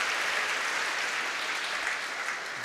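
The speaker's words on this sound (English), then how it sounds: "Cheer of the day so far." Tennis crowd on the centre court of a women's tournament at Shrewsbury, dense sustained applause with some cheering after a point, loud and continuous throughout.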